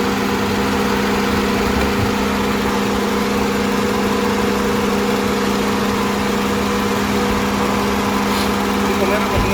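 Car engine idling steadily with the air conditioning switched on, a constant low hum and drone throughout, with people talking over it.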